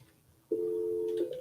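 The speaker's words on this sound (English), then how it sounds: "Accidentally knocked the phone off and hung up on him." A telephone line tone after a handset was knocked off and hung up: one steady electronic tone starts abruptly, holds for under a second, then shifts briefly, loud and clean against a quiet room.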